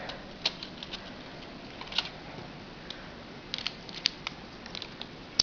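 Small plastic Lego parts on a Schwing pump truck model being folded up and back in, giving faint scattered clicks and ticks over a quiet background hiss, a few sharper snaps standing out.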